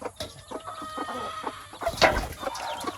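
Chickens cluck and fuss on a small farm holding a batch of eleven newly hatched chicks, with scattered calls near and far and one louder burst of clucking partway through.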